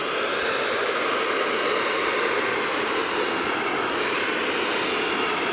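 A hair dryer blows paint across a waste water pipe being made into a table: a loud, continuous whooshing roar, steady from start to finish.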